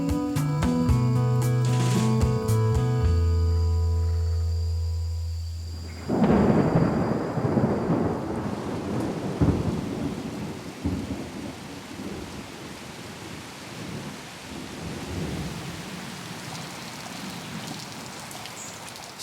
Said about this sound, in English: Sudden, thundery downpours are pretty normal in this part of the world.